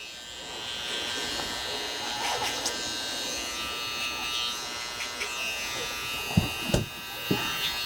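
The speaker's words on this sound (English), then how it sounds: "I'm just going to work the clipper over comb and just take the sideburns just up a little bit" Electric hair clippers buzz continuously while trimming sideburns clipper-over-comb in a men's haircut, a steady close hum with a few small knocks toward the end.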